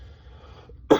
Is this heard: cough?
yes